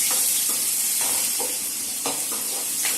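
Onions sauté with fennel, cinnamon and cloves in a pan for a Tamil prawn gravy, making a continuous close hissing sizzle with rhythmic scraping stirs throughout.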